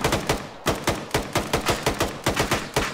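Rapid bursts of machine gun fire ring out in a video game mission, loud sharp shots in quick irregular volleys with short pauses between them, heard alone without talk.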